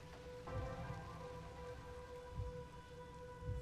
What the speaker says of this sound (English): It's a gentle rain, protecting us.